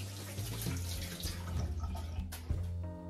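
Tap water runs steadily into a sink during hand washing, a soft continuous splash with small drips and a low hum underneath, no talking.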